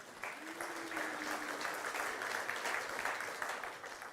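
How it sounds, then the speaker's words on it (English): A church congregation claps steadily for several seconds, a soft, sustained round of applause filling the room with a faint voice briefly underneath. "I think give a little round of applause for that"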